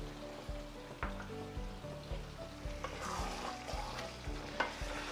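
A spoon stirs kadhai chicken frying in masala in a kadhai, with yogurt and green chillies just added. Rhythmic, close scraping strokes repeat over a steady sizzle, with no talking.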